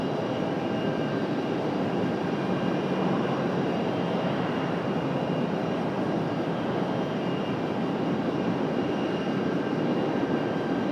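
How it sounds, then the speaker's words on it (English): A jet airliner, an Alaska flight bound for Seattle, roars steadily as it departs Raleigh-Durham airport, a broad sustained engine rumble with no pause or talk. "Alaska 572 should be departing here shortly, back to Seattle"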